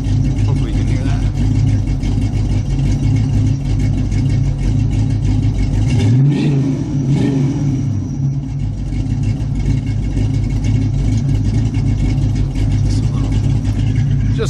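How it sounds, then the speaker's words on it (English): A 1980 Ford Zephyr with an exhaust leak at the H pipe idles with a deep, steady rumble, then gives a single short rev that swells and settles back to idle, recorded close to the engine. "Just a little rev for you."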